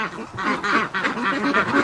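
A Rouen duck quacks close by in a series of loud, raspy honking calls, several in quick succession with short gaps between them, kept indoors after a freezing spell.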